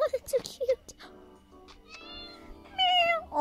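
Several cartoon cats meow repeatedly in the video game Miga World, short high mews rising over game music, with a voice exclaiming under them.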